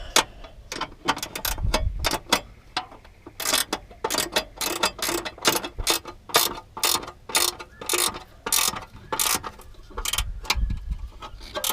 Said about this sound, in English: Very tight down in here, which is why these ratchet spanners are so good.